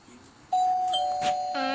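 A doorbell rings inside a Roblox house, a bright sustained electronic chime that starts abruptly, holds steadily and is topped by a second tone near the end, loud and clear with no talk over it.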